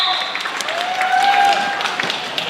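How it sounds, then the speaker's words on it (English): Crowd at a live roller derby double header applauding and cheering, a steady wash of clapping with scattered whoops, a bit distant, with voices mixed in. "Let's give Bones a cheer"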